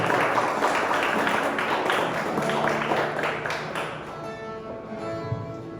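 Church congregation applauding during a worship service, a dense patter of many hands clapping that starts strong and gradually thins and fades toward the end.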